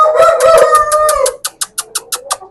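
Chicks of a fighting-cock breed calling at close range: a drawn-out, wavering cry, then a quick run of about eight short, sharp peeps in a steady rhythm.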